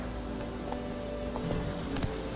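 Roach, Geralt's horse in The Witcher 3, clip-clops along in a steady, moderately close hoofbeat rhythm over a dense game ambience bed, with no talk.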